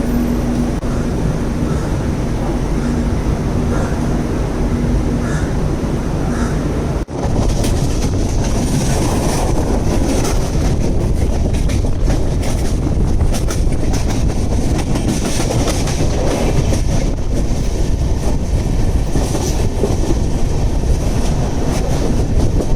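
The Konark Express, in an AC 3-tier coach, rolls out of Mumbai CSMT with a loud continuous rumble, rattling clickety-clack and squeaky creaks heard from inside the carriage.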